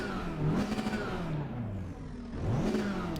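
A GT4 race car's engine revving in the Assetto Corsa Competizione racing game: a close mid-pitched engine note that climbs, dips and rises again over a few seconds with a steady whir beneath it.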